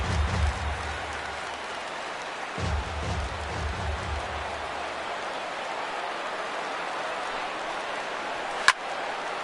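A baseball stadium crowd of about 23,000 rises and cheers in the ninth inning, a broad steady roar of voices sustained throughout, with low rumbling thumps early on and a sharp crack near the end.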